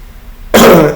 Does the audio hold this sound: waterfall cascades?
no